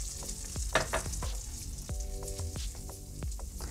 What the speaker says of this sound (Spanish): ya por último vamos a agregar la Coca-Cola, que tenemos acá un vaso